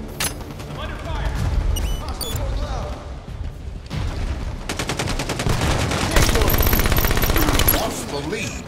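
Halo 5 Guardians multiplayer beta gunfire: loud, rapid automatic bursts and single shots that stop briefly, then return denser amid other game effects.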